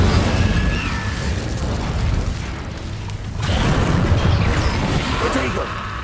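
Incendio fire spell cast repeatedly in Hogwarts Legacy, a dense roaring, crackling burst of game effects with rumbling low booms, loud and continuous, briefly dipping midway before surging again.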